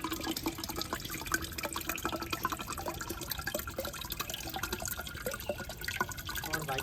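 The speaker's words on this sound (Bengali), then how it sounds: "তাই অনেক পানি" Water pours and splashes out of a freshly cut green coconut in a garden, a continuous trickling gush with small drips, fairly faint and with no one talking.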